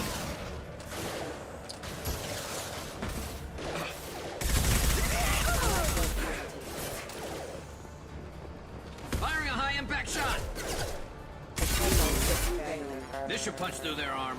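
Enemy gunfire in the video game Mass Effect 2, with bursts of shots and mechanical clatter repeating through a busy game soundscape while someone talks over it.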